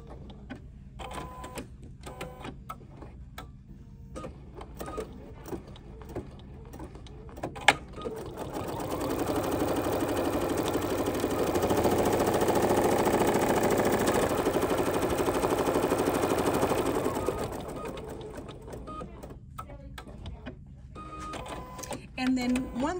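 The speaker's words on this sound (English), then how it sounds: "we're gonna lay that folded line that we creased onto this position, and then it's gonna sew this line" A sewing machine stitches a line across a quilt block in one steady, loud whirring run of several seconds, framed by quieter clicks and handling noises and a person talking.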